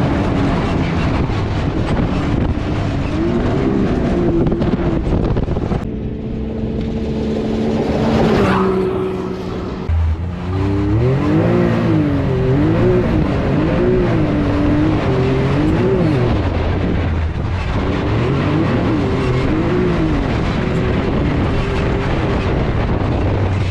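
An off-road 4x4 truck at King of the Hammers drives in high range, two-wheel drive, its engine loud and close, revving up and down in repeated swells with wind noise throughout.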